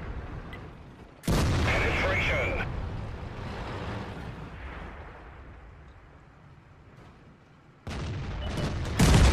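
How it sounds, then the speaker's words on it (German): A tank cannon fires at an IS-8 in World of Tanks, loud broadband blasts opening the passage and another near the end, with a rumbling decay and engine noise in between. "Ich schieße jetzt hier dem IS-8 hinten rein."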